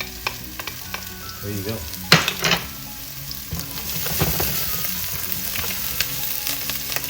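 Garlic and onions sautéing over medium-high heat in a pan: a steady sizzle and crackle with scraping stirs, including a sharp clatter of utensil on pan, and a brief spoken remark.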